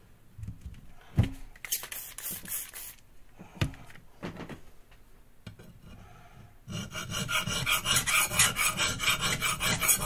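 A Santoku knife is sharpened on a 300 grit ultra sharp plate, with scattered scraping strokes early on, then a louder, steady run of rapid, rasping back-and-forth grinding through the final few seconds.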